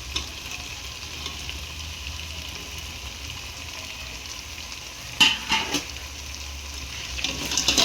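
Ginger and garlic sautéing in a pan for white chicken biryani, a steady low sizzle with a few sharper stirring scrapes near the end.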